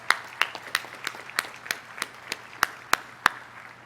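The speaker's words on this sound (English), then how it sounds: "So I think they deserve a well-rounded applause." Sparse, sharp hand claps ring out at a slow, uneven pace against a quiet room background at a university commencement ceremony, sounding like a few people clapping.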